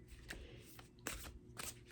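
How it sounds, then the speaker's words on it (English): Faint, close rustle of an oracle card deck being shuffled, a few short crisp card slaps in an irregular rhythm over a low room hum, with no speech. "And done shuffling here."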